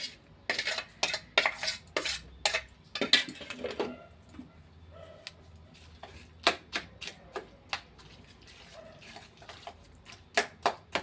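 A thick carrot paratha batter with onion, chili and salt is mixed in a bowl, producing quiet scraping and irregular clinks of a utensil against the bowl, with short pauses.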